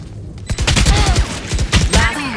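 Rapid gunfire from the video game Valorant, a dense fusillade of loud, close shots in quick succession running nearly the whole time.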